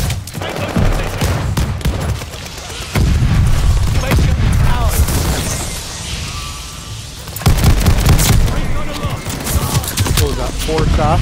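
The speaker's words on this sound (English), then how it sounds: "Throwing grenade" Loud booming grenade blasts and rattling automatic gunfire from Call of Duty: Vanguard, arriving in heavy bursts over a rumbling battlefield, with in-game voices calling out in between.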